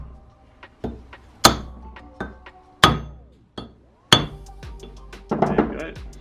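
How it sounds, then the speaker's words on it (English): Metal tapping on wheel studs while fitting a Quaife limited-slip differential during an AWD ST gearbox conversion, a series of sharp ringing clinks and knocks spaced irregularly, loud and close, with a busier cluster of taps near the end. "So I just tap on the studs"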